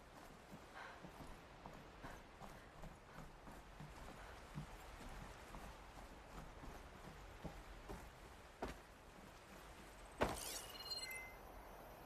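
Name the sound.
horse hooves clip-clopping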